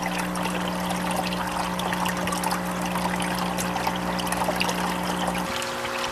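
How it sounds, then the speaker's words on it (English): Water splashes against the side of an aquaponics fish tank in a steady, continuous trickle and pour, with a constant pump hum underneath that shifts just before the end. "As the water splashes on the side of the tank, it creates air bubbles"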